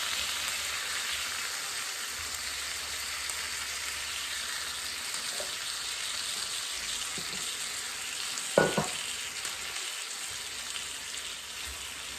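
Bacon frying in a pan makes a continuous crackling sizzle with one brief knock partway through and no voices.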